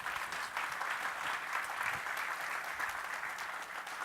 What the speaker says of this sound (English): Nice round of applause for Dan